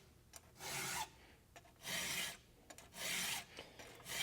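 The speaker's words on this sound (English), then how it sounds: "You can feel the file when it's really cutting." A hand file sharpening a chainsaw chain, giving three loud close rasping strokes, each about half a second long, separated by short quiet gaps with small clicks, no talking.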